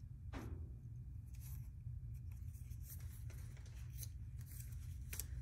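Scissors snip through paper in a quiet room, with soft, scattered cuts and rustles over a low steady hum.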